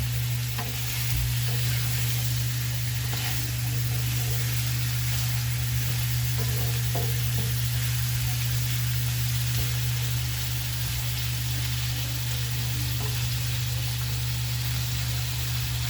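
Pork frying in a pan gives off a steady, close sizzle with a constant hiss and occasional crackles, going on for the whole stretch with no talking.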